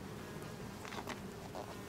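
Honey bees buzz around rooftop hives in Berlin, a steady faint insect drone with a few louder passes as individual bees fly close.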